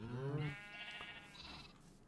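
Sheep bleating in the video game Minecraft, a short wavering cry up close at the start that fades into softer game sounds.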